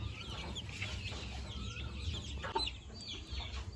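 Young Onagadori chickens, about 28 days old, cluck and cheep continuously in a farm setting, with soft overlapping calls and one slightly louder squawk.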